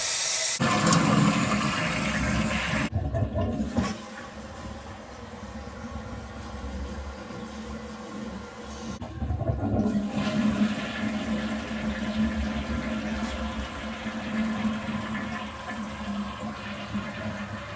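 An old toilet with a worn flapper flushing, a loud rushing swirl at the start that drops off, then steady refilling water running for the rest of the clip, with a brief lull and a second surge midway.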